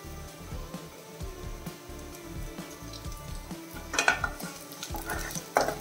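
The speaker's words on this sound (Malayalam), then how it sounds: "ഇനി നമ്മൾ 2 വറ്റൻ മുളകും കൂടെ ഇച്ചിട്ട് കൊടുക്കാം." Two dried red chilies sauté in hot oil with small onions in a pan for a spinach dish, giving a steady sizzle with scraping stirs and clinks of a utensil against the pan.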